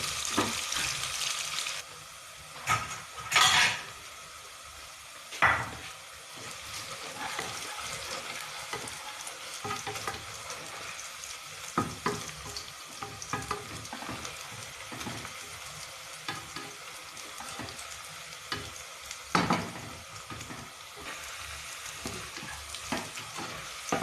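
Onions fry in a pan until browned for fish biryani, a steady sizzle broken by stirring scrapes and occasional louder clatters across a long stretch, close and unaccompanied by speech.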